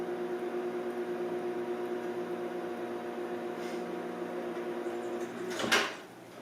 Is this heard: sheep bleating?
no